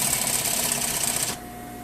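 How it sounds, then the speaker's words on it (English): A sewing machine runs a fast, steady burst of stitching to understitch a lined skirt's waist seam allowance toward the facing, then stops abruptly, leaving a faint hum. "you're going to understitch all around your skirt, waist, seam allowance towards the facing"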